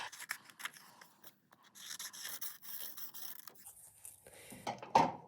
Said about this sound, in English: Now I can take my scissors and cut out my bun.